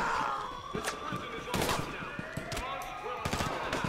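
Scattered gunshots in GTA 5 as an armed prisoner fires at everyone, a series of sharp distant-sounding cracks spread over a busy background of game noise and faint commotion.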